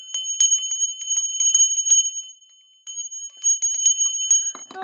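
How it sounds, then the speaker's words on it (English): Bells rung in quick bursts, bright metallic strikes with ringing tones, loud and close, pausing briefly before another flurry of rings. "I'm gonna have to do some big bells."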